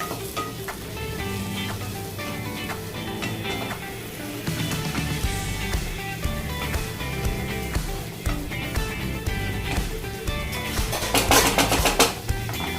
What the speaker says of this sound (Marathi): ह्याच्यामध्ये आता आपण मशरूम टाकू.